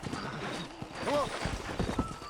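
Horse hooves clip-clopping with a whinny in the Red Dead Redemption video game while horses are broken in, with talk over the hooves.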